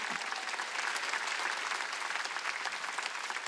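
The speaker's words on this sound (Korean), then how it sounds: "빨리 박수를 하는 거예요" A church congregation at a Wednesday worship service claps quickly and steadily, a dense, even patter of many hands heard at a moderate distance with no voices over it.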